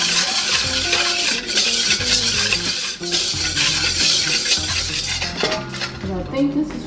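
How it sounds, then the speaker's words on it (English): Seasoning packet marinade whisked in a bowl, a busy metallic clatter and scraping of whisk against the bowl that runs steadily throughout, with faint tonal sounds underneath. "Just whisk it around."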